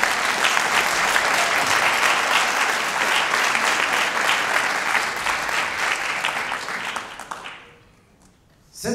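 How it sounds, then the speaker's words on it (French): Audience applause as an organiser is called onto the stage at a fighting event, loud, dense clapping and crowd noise sustained for about seven seconds before fading to a quiet tail. "On applaudit."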